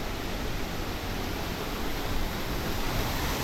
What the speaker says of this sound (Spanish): Aquí recoge las aguas de esta quebradita y de esta otra que llaman Cristales